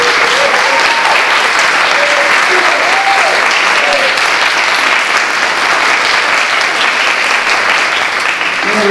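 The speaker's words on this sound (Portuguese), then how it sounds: "Vai aplaudir." Dense, continuous applause from an audience at an evening lecture on Marx and economics, loud and even throughout, with faint voices murmuring underneath.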